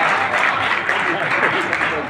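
An audience claps continuously at a Hindi-Urdu kavi sammelan held in Sagar for Gaur Jayanti, with a voice speaking over the applause.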